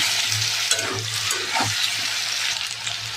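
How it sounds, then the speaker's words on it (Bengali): Potatoes frying in oil with turmeric and salt, a dense continuous sizzle with a few soft stirring scrapes, close and loud. "আলু দিয়ে দিয়েছি, হলুদ দিয়ে দেবো, নুন দিয়ে দেবো। আলুটাকে ভেজে নেবো।"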